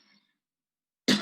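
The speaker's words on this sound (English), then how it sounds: "I'm coughing not because of the corona." A single short cough from a man presenting at a scientific conference, abrupt and close after a near-silent pause.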